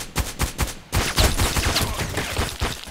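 FN SCAR-L rifle shots in the shooter game Contract Wars ring out close and loud, several spaced single shots in a steady rhythm at first, then a quicker run of sharp cracks with no speech.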